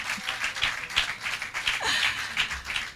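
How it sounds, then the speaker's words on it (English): An audience at a police station opening applauds a primary school's cultural performance, with scattered claps building into steady, moderately loud applause. "Let's give George's Plain Primary another round of applause."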